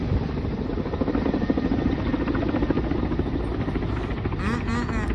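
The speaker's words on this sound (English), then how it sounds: "I guess they're bringing in the either the news helicopter or the firefighting helicopter, one or the other." A news or firefighting helicopter over Moscow during fires, a loud continuous rotor thrum and engine whine that holds steady, with a brief higher warble near the end.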